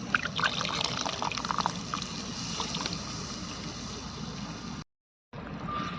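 Water pouring into a fish curry pan in steady trickling splashes, close and fairly loud, cutting to silence for a moment near the end before resuming.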